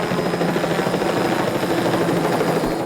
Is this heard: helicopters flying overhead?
yes